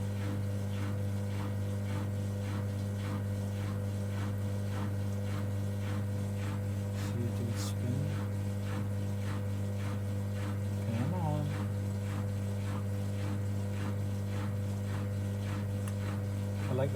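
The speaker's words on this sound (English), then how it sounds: "I like that chug on pump." Vintage Hoover Softwave washing machine pumping water out before its spin, a steady mechanical hum with a regular rhythmic chug repeating about once a second, close and continuous throughout.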